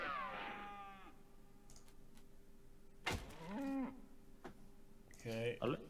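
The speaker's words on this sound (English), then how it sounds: "Ooh, electrified cows." Electrified cows in the video game West of Loathing, giving drawn-out, wavering moos, one at the start and more near the middle and end, separated by quiet gaps and brief clicks.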